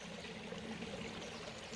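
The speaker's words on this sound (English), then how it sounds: "we've got a nice little stream here" A small clear stream burbles steadily and softly outdoors, an even flowing wash of water with no voices.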